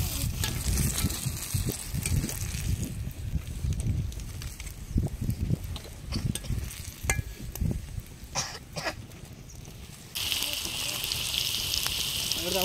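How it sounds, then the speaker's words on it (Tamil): Panana fish frying in a pan, a steady crackling sizzle running throughout with stirring clatter and a few coughs over it, ending in a brighter, hissier stretch. "இப்போ வறுத்து எடுக்கிறீங்க."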